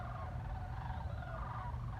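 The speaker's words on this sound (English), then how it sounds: "Look at these birds." Birds call in a steady, continuous chorus of wavering, gobbling-like notes that runs the whole time at moderate loudness, with no talking over it.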